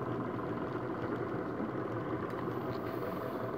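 A homemade free-energy motor runs steadily at about 300 RPM, giving a continuous low, even hum with faint mechanical vibration and no talking.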